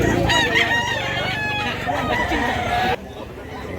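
A rooster over a year old, offered for sale in Mantalongon, Barili, Cebu, crows loudly and close with one long strained call lasting about three seconds, then stops abruptly. Voices can be heard faintly around it.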